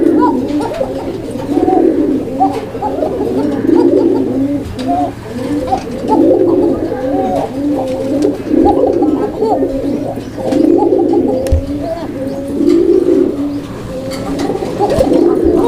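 Fancy pigeons, some females sitting on eggs, coo close by in rhythmic, repeated throaty phrases over a faint steady hum.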